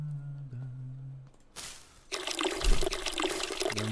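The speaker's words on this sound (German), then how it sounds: "Wenn wir das hier nochmal alles schön gießen." Watering plants in the video game Weed Shop 2: after a tonal hum and a short hiss, a loud, steady splash of pouring water runs for the last couple of seconds.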